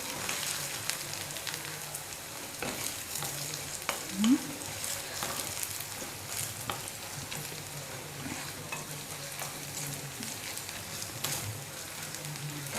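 Chicken kheema for a samosa filling sizzling and frying in a pan, a steady close crackle broken by occasional stirring scrapes and clinks, with no talking.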